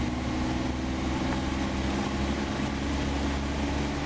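A tractor engine in Farming Simulator hums as a steady, dense low drone that stays constant throughout, with no speech.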